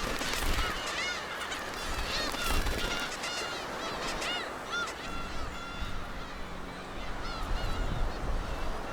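Black-tailed gulls on Dokdo island crying in a noisy colony, many harsh, honking calls overlapping in a dense, continuous chorus with some louder nearby birds.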